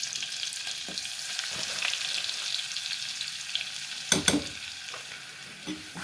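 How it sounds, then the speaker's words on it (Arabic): Flour is stirred into butter and oil in a pan with a soft, steady sizzle and occasional scraping of a utensil against the pot. "وهقلب الزيت مع الزبده مع الدقيق كده"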